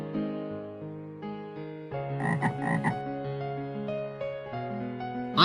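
A cartoon frog gives a series of deep, buzzy croaks in quick succession, tonal and resonant, the middle call louder and rougher; close and alone, with no other sound.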